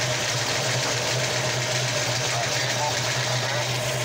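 A 1966 Ford Mustang engine idles steadily while warming up, its choke acting up, giving a continuous low rumble with a faint ticking hum and no other prominent sounds.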